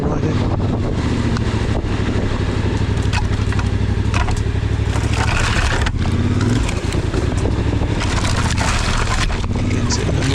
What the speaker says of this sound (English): It's a case of just the engine going.